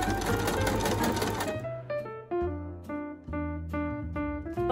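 A sewing machine stitches elastic onto a dress made from an old curtain, running in a steady rapid whir, then in short stop-start bursts with brief pauses between runs.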